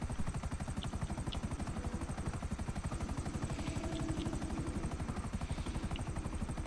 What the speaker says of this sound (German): wir sind im Heli.